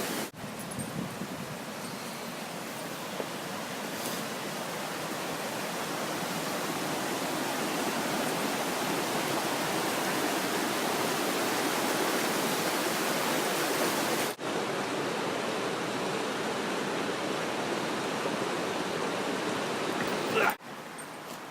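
A river rushes steadily and loudly at a crossing on the Ramona Falls hiking trail, a dense continuous roar of flowing water that carries on without a break, with a brief dip near the end.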